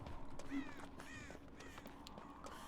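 Crows caw in the Dead by Daylight video game: several harsh caws in a row at moderate volume over a steady ambient game background, with no talking.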